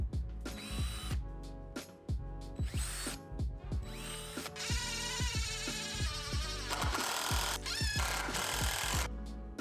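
Power drill driving screws to attach casters to a wooden workbench: repeated close, loud bursts of whirring motor with rising and falling pitch, short pauses between screws and a longer sustained run near the end.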